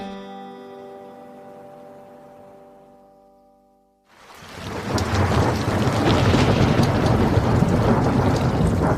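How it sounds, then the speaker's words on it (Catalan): Heavy rain pours down in a steady, loud roar after a tonal musical passage fades out halfway through, continuing densely to the end with no voices. "plou tant que ni tan sols es veuen les muntanyes"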